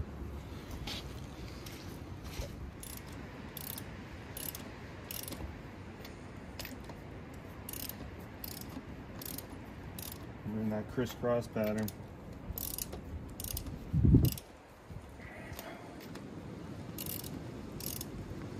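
A ratchet tightens lug nuts in a crisscross pattern on a Jeep Wrangler front wheel: faint bursts of quick clicking, a brief louder clunk near the end, with quiet speech over a low background.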